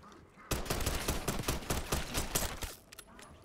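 Rapid pistol gunfire in Black Ops 6 Zombies on the Liberty Falls map, a loud burst of close, quick repeated shots for about two seconds that then trails off, with no speech.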